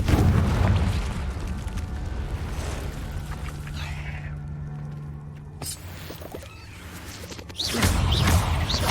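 Hogwarts Legacy on PS5, Confringo fire spell: a deep booming blast opens, then rumbling decay and whooshing tails, with a second swelling burst near the end.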